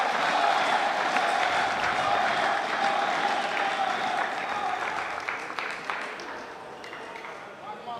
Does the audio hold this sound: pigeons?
no